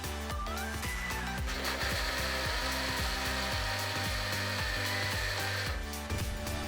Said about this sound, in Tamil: இதை அரைக்கிறதுனால கொஞ்சம் கரகரப்பாகவே அரைச்சா போதும், விழுமென அரைக்க வேண்டாம்.